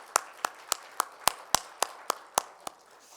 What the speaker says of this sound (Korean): 박수 올려드릴까요?